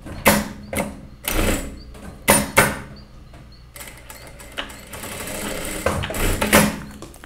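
A sewing machine stitches a straight seam on a peasant-neckline dress, running in several close, loud bursts of rapid mechanical clatter separated by short pauses and a longer steady run near the end.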